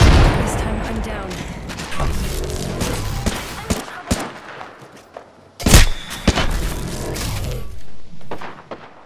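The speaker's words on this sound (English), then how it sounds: "Look out, grenade." In a shooter video game, a grenade blast lands amid dense gunfire. A sharp loud boom hits midway through, surrounded by crackling shots and thuds.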